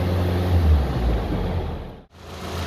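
A warmed-up Peugeot 206 engine idles steadily after a radiator and cooling-system repair, a continuous low rumble close by that briefly dips near the end, with no talking.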